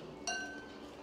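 A lid set onto a bowl of oiled kochuri dough gives one faint, bright glassy clink with a short ringing tail, then quiet room tone.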